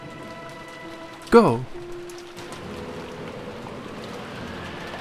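Steady rain hisses down in the visual novel game Umineko and keeps going under the game music. Partway through, one loud shout cuts in over it.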